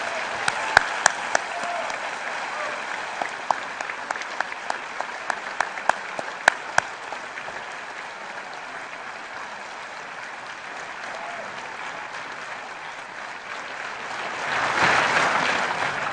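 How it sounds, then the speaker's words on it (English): An audience at a Class of 2015 graduation ceremony applauds for about sixteen seconds, a steady wash of clapping with some sharp individual claps early on and a brief swell near the end. "Could we all give Rick Mergenthaler a round of applause?"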